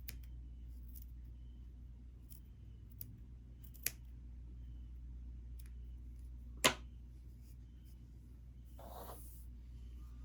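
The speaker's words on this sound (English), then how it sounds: "then cut however short you want this" Scissors snip once through braided bookmark strands, cutting them straight across in a single sharp, close cut over a quiet room background, with a couple of fainter clicks before it.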